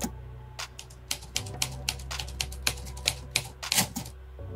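Typewriter keys strike in an irregular rapid series of sharp clacks, close and clear, with no voices, like a produced typewriter sound effect.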